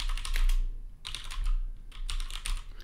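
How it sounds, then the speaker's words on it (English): Typing a name into a search field on a computer keyboard: quick runs of close key clatter with brief pauses between bursts, no voices. "So I'll type in Carrie McGlash like so"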